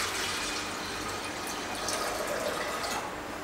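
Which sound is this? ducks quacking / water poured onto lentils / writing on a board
water poured onto lentils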